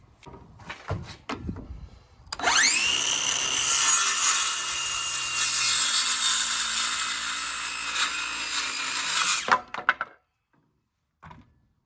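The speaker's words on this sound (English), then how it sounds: "I've cut the board on the long side at a 45-degree angle" A power saw whines up and cuts through a wooden board at a 45-degree angle for a target stand, giving one loud, close, sustained high-pitched buzz of about seven seconds, with wood knocks before and after.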